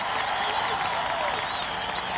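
A stadium crowd of 50,000 on their feet cheers and applauds in a steady, dense roar, loud and unbroken throughout.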